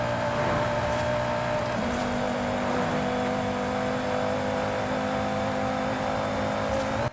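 A 600 BHP Volvo C30 Polestar build in Forza Horizon 5 accelerates hard in fourth gear, its engine holding a loud, steady rising drone with a shift-like step partway through, no talking.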